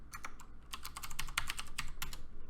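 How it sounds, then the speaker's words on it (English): Quick, light clicks of a computer keyboard being typed on, a rapid uneven patter of keystrokes close by and fairly soft, with no voices. "We'll just do Joe. It's going to be joe@joe.com, our email, and then our password."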